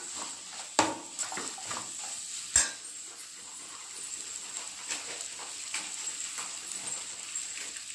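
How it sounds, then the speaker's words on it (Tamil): A spoon stirs Maggi noodles with egg and masala in a pan, giving soft scraping and a light sizzle, with two sharp clinks of utensil against the pan early on. "நல்லா மிக்ஸ் பண்ணிட்டே இருங்க."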